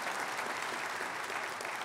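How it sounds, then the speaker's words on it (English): Audience clapping during a talk, a steady patter of many hands heard faintly and at a distance, continuous for about two seconds. "And sure, you can clap."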